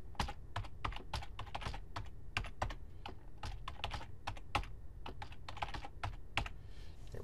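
Rapid, close clicking of keys on a computer keyboard as a password is entered, the taps coming in quick irregular bursts with no talking.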